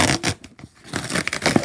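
Rough tearing and ripping of a cardboard box being torn open in several bursts, close by, with a brief quiet gap partway through.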